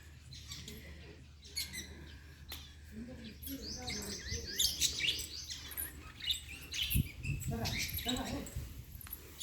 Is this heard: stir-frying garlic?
no